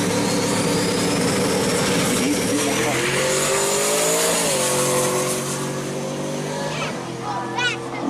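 Barracuda drag race car at an East Coast Pro Street Nationals drag strip, a loud sustained engine roar with rising harmonic pitch as it runs, fading somewhat toward the end under crowd and announcer noise.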